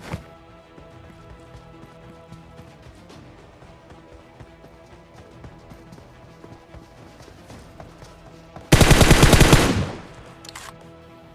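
Gunfire in the mobile battle-royale game PUBG Mobile: a loud burst of rapid automatic fire lasting about a second, sitting against a background of quieter game ambience and footstep-like thumps.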